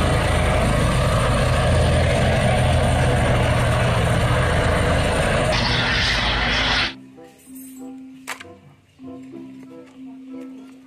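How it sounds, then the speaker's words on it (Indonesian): Yellow toy helicopter: a loud, steady whirring rotor and engine drone lasting several seconds, then stopping abruptly, leaving quiet tones and a few faint clicks. "Helikopter warna kuning."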